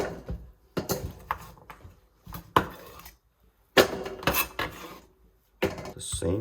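Chopped Korean radish pieces for kimchi are scraped and dropped into a big bowl, making a series of sharp clattering knocks and thuds up close, separated by short quiet gaps.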